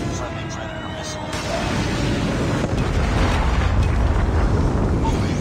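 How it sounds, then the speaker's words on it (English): An airstrike in the video game Call of Duty erupts into a loud, sustained rumbling blast that swells after a second and keeps roaring, with a voice talking over it. "Friendly airstrike incoming."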